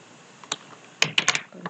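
Several computer keyboard keys pressed in quick succession for copy and paste shortcuts, a lone tap followed by a tight cluster of sharp clicks, close and fairly clear.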